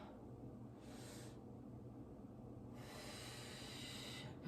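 During a yoga stretching session, quiet breathing comes in soft airy hisses, two long inhalations or exhalations through the nose in an otherwise still room.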